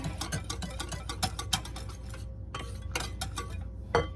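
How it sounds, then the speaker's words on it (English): A spoon stirring a dessert mixture in a bowl, repeated light clinks and scrapes against the bowl in an irregular rhythm, close and fairly quiet. "Till we get this all stirred up."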